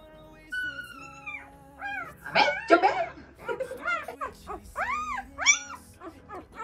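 Husky puppies in their first week of life whimper and yip in quick, high, rising cries, several overlapping, close and fairly loud in a quiet room.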